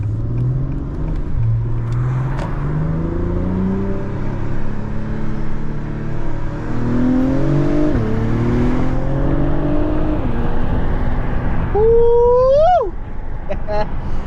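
An Acura TLX Type S engine with a PRL high-flow air filter revs up through rising gears from inside the cabin, a steady loud drone climbing in pitch, ending in a sharp high rev.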